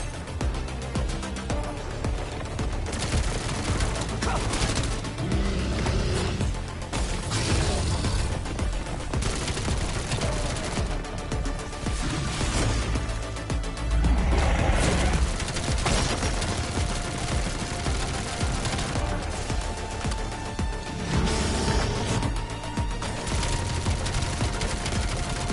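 Sustained gunfire from a Black Ops 7 Zombies session on the Astra Malorum map, with dense bursts of automatic weapon fire and booming impacts running continuously over a busy game soundscape.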